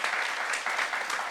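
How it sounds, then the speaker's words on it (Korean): A church congregation claps during a sermon, a dense, continuous burst of applause filling the space without a pause. "박수 하세요."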